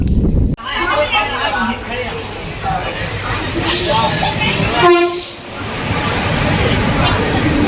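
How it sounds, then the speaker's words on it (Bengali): A loud rumbling train runs throughout, in Gujarat, with a horn blast sounding partway through over the constant roar of rail noise. "আজ আমরা চলে এসেছি দ্বারকা থেকে আমরা ট্রেন ধরবো"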